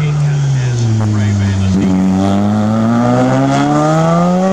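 Modern sports car engine at the 2019 Wondi street sprints, a loud close roar holding pitch, dipping briefly, then climbing steadily as it accelerates.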